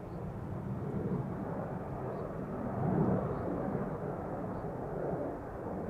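An Airbus A321neo departs Amsterdam Schiphol, a low, steady rumble of jet engines at a distance that swells slightly midway, with no talking.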